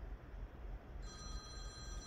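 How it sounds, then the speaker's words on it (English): A telephone rings during a quiet home music session, its bell tone entering halfway through as steady sustained pitches over low background rumble. "And my phone just rang."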